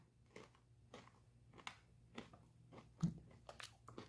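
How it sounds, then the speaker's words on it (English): Crunchy Flipz Snickerdoodle coated pretzels being chewed close up, a series of soft crisp bites and crunches with short pauses between, quiet and without talk. "Snickerdoodle coated. Let's give these a try."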